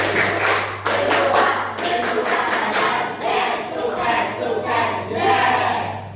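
Schoolchildren in a madrasah classroom perform the rhythmic 'tepuk mim dua' clap chant, groups of sharp hand claps in a patterned beat mixed with their chanting voices, close and lively.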